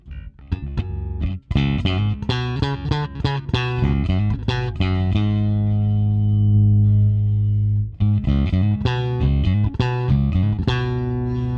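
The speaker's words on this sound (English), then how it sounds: "When I turn it a little bit down, it's cutting a little bit down the low frequencies." Bass guitar with its volume knob turned down plays a busy riff of plucked notes, a long sustained low note in the middle, then more picking; tone sounds thinner, lacking deep lows.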